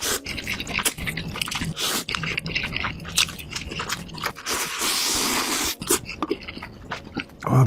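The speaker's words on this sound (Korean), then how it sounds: "면 식기 전에 바로 한번 먹어볼게요." Noodles being slurped and chewed right after serving, hot and spicy with kimchi, with close, wet bites, crunches and squishy mastication repeating steadily throughout, loud and up front with no talking.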